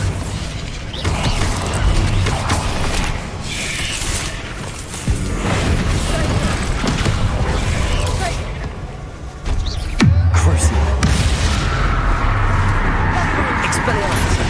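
The Bombarda explosion spell goes off in Hogwarts Legacy, with sharp booming impacts over a dense, loud bed of combat noise and mechanical clatter.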